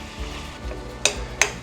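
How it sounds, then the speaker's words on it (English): Ground beef browns in a hot pan for Asian-style sloppy joes, a low steady sizzle broken by two sharp metallic clinks of a utensil against the pan, close and fairly quiet. "This meat's starting to brown pretty good, so I'm going to make the first flip."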